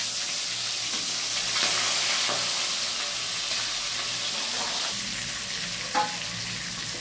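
Prawns coated in turmeric and salt fry in hot oil in a wok, a steady broadband sizzle and crackle running throughout with occasional louder spits, close and alone with no voices.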